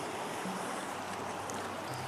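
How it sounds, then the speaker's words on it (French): Ocean waves wash in a steady broadband roar of surf, continuous and fairly close with no voices over it. "je vais être bien avec le bruit des vagues"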